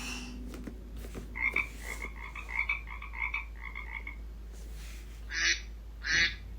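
A children's animal-sound toy plays a run of rapid, regular frog croaks when its frog button is pressed, followed by two louder, harsher croaks near the end.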